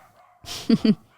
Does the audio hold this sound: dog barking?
yes